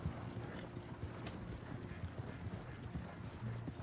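Horses clip-clop in Red Dead Redemption 2, a steady rhythmic patter of hooves at a walking pace mixed with faint creaking tack, quiet and close, with no one talking.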